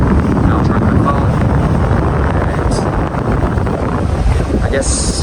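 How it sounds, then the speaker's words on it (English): Strong wind buffets the microphone at a seaside boat dock in Stanley, Hong Kong, a loud continuous low roar that fills the whole stretch with little letup. "Pretty windy over here actually"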